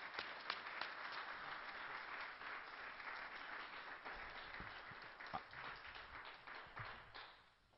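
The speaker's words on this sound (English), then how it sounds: "let's give Dr. William Deagle a warm round of applause at the Granada Forum." Audience applause at the Granada Forum welcomes speaker Dr. William Deagle, a steady spread of claps in a room with a few sharper nearby hits, fading out at the end.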